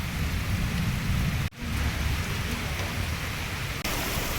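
Torrential rain roars outdoors as a loud, dense wash of water, with a deep rumble of thunder underneath and one abrupt break partway through.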